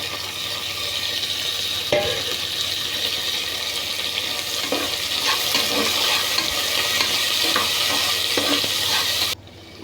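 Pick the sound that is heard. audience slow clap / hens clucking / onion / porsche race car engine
onion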